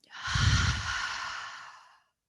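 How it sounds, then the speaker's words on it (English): During a pregnancy yoga session, one long, soft exhale is pushed out through the mouth. It rises quickly, then tapers away over about two seconds, close and alone. "Exhaling out through the mouth"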